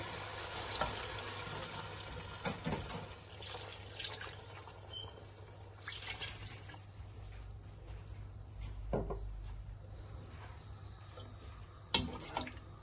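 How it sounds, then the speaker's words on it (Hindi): Water is poured into a pot for Indian pea pulao (mattar pulao) in a home kitchen, a soft continuous splashing with scattered clinks and knocks from the pot. "अब मैं इसमें वाटर ऐड करूंगी, ये वाले 3 ग्लास"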